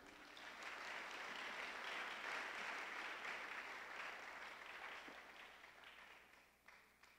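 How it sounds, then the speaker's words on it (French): A church congregation applauds together after a scripture reading, sustained broadband clapping filling the room for several seconds before gradually thinning and tapering off toward the end. "Acclamons pour la parole de Dieu."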